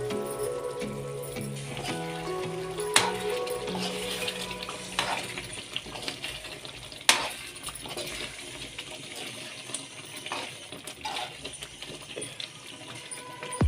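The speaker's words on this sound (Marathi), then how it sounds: "एकदा आपण जरा हलवून बघूया" A spatula scrapes and stirs cooked brinjal fry masala (vangi fry) in a pan, giving steady close scraping and clinking with a couple of sharper knocks, under continuous background sound and no talk.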